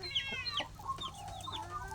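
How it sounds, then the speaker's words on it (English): On a farm at feeding time, a hen clucks and chirps to her chicks in short, rising and falling calls. The sounds are soft and nearby, with a low background hum and no speech. "Mama's showing them how to eat."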